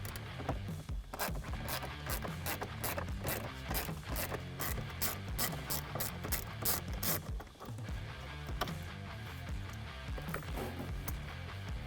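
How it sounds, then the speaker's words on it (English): A small ratchet with a 7mm socket backs out screws inside the dash of a 2015-2019 Ford F150 during a touchscreen install, giving a loud, close, rapid run of continuous clicking that barely pauses. "you can just use a little ratchet with a 7mm socket on there to get down into it"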